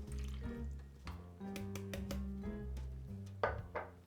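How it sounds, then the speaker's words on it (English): Brine or water trickles and drips as it drains from canned artichokes through a strainer, with soft background music underneath. "Just want to strain out all the liquid"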